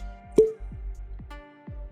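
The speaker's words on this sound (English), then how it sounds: "Nice cork pop." A cork pops from a bottle of Four Roses Single Barrel bourbon. One crisp, close pop is followed by faint knocks and handling sounds in a quiet room.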